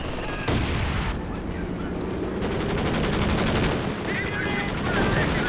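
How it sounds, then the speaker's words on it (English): Company of Heroes 2 battle with dense gunfire and heavy artillery booms, rapid machine-gun bursts layered over deep blasts, loud and continuous, with a voice briefly over the fighting. "There's that artillery cover through the center as well."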